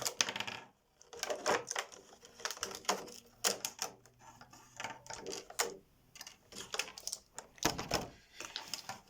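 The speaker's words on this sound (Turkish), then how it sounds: "Şimdi kutumuzu açalım. Şöyle ürünlerimizi dökelim." Baby bottle cleaning set pieces, plastic brushes and accessories, tumble out of their box onto a surface in a busy run of clattering knocks and clicks, close and moderately loud, with a short pause near the start.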